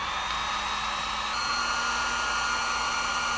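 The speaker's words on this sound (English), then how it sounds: "So I'm going to take the heat gun and heat it up and bake that stuff out of there" A heat gun warming a part from an Amal carburetor during a rebuild, a steady, loud blowing roar with a constant whine that runs unbroken throughout.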